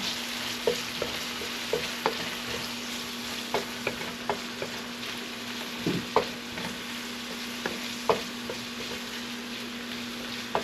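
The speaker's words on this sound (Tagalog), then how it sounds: "Ngayon, nagigisa na po siya ng sibuyas, bawang, and then hanggang sa mag-golden brown." Onion and garlic sautéing in a pan until golden brown, a steady broadband sizzle with an even hiss and a low steady hum beneath, punctuated by regular sharp clicks of a utensil stirring against the pan.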